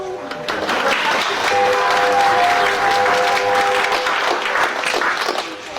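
Theatre audience applauding during a pantomime of Dick Whittington and his Cat, a full, steady wash of many hands clapping for several seconds, loud and close, with a held musical tone running underneath.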